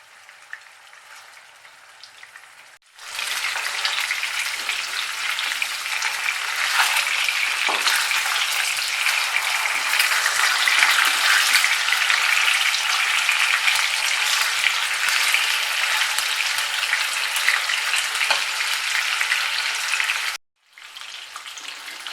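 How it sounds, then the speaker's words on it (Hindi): Pieces of fish frying in a pan over a medium-low flame give a steady, loud, dense sizzle that starts abruptly, holds unbroken for about seventeen seconds, then cuts off, close by with no voices. "इसको 2 मिनट मैंने ये वाला हिस्सा और दो मिनट जो है ना मैंने दूसरे हिस्से को फ्राई करके इसको निकाल लेना है"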